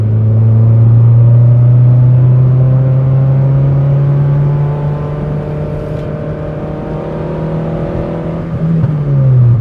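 Rebuilt 1998 Toyota Tercel engine running loud and close on a test drive, a steady drone that holds its pitch, eases back midway, then rises briefly before dropping off near the end.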